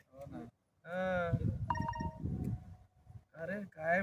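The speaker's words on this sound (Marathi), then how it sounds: "अरे काय मेसेज आला बघू द्या." Between bursts of conversation, a phone's message notification plays a short run of electronic beeps, clear but modest in volume, before people resume talking.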